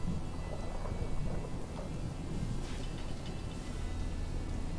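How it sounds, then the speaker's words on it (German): During a thunderstorm in the video game Fallout 4, a low, rolling rumble of thunder runs under steady rain hiss, even and continuous with no voices. "Ach, ich glaube, das ist tatsächlich ein Gewitter."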